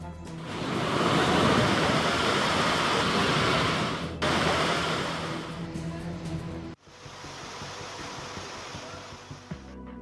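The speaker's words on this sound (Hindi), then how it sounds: "तेज गति से बहते झरने" Fast-flowing waterfalls at Mount Abu in monsoon rain, a loud continuous rushing roar of water that cuts off abruptly and gives way to a quieter, fainter wash.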